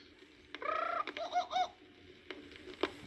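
A single jungle bird call from a storybook record rings out briefly with cooing, warbling notes, clear and fairly close against quiet background hiss.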